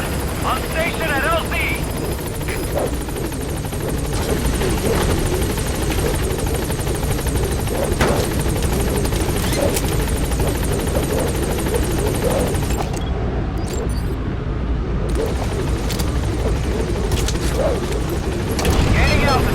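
A helicopter in Metal Gear Solid 5 approaches a landing zone, its rotor roar loud and continuous throughout, with thumping blade chop and scattered distant gunfire-like pops, while radio voices speak over it.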